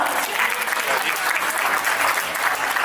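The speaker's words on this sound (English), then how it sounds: "Once again a big round of applause for the group Shane Punjab." An audience at a Republic Day event in a Surrey banquet hall applauds the Shane Punjab dance group, a continuous, fairly loud and even spread of clapping that holds steady throughout without voices standing out.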